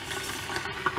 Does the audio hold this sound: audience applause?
no